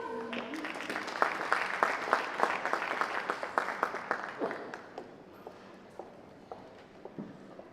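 Audience applause following an acoustic music performance at a live showcase, a sustained burst of clapping that tapers off toward the end, fairly close.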